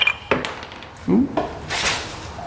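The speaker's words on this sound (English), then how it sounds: "All those rollers coming out." Metal clutch rollers dropping and clattering out of a broken ATV primary clutch, a few sharp metallic clinks and rattles scattered across a couple of seconds, close up.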